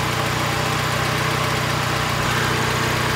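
A Toyota big-body car engine idles steadily and close by after ignition timing and carburetor tuning, a smooth continuous mid-low hum with faint vibration and no talk.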